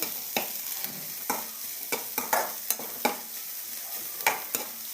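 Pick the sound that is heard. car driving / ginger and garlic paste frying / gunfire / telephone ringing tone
ginger and garlic paste frying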